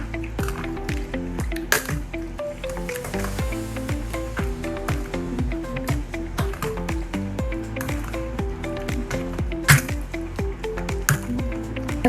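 Chicken pieces mixed by hand with salt and masala marinade give repeated wet squelching and squishing sounds in an irregular rhythm, close and moderately loud, with occasional clinks.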